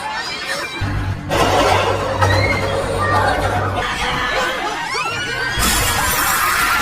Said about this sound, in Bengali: সামনে থাকা মানুষদের চাপে কাঁচও ভেঙে যায়